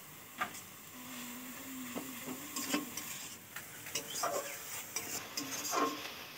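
Jaggery and grated coconut filling is stirred in a pan over the heat, with soft scraping and stirring strokes over a low sizzle, heard close and fairly quiet.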